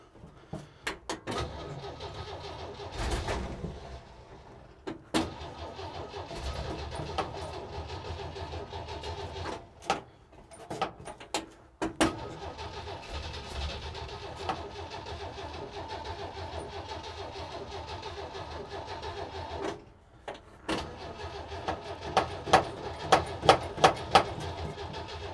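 The engine of a Kaiser Jeep M715 truck cranks and catches on starting fluid, sputtering and stumbling as it fires up. It then runs rough, with uneven revs and clatter over about twenty-five seconds, heard from a short distance.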